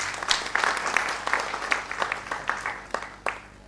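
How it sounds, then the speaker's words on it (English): An audience at a professional gathering applauds in scattered, uneven claps that thin out over a few seconds, moderately close. "kindly welcome Mr. Asit Singh by clapping the hands"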